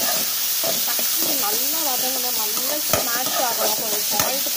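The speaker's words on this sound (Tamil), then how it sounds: "கொஞ்சம் சாய்ட்டு போட்டு நல்லா வதக்கிடுங்க" Tomatoes and onions sautéing in a pan for vada curry: a loud, even hiss of frying with a few sharp stirring clicks, while a voice talks over it.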